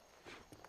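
A horse's hooves clip-clop in a few soft, uneven thuds, quiet and fairly close, over faint background noise.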